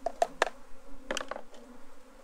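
Honey bees around an opened Apimaye hive during an inspection, with close buzzing passes and a few sharp clicks or knocks over a faint steady hum.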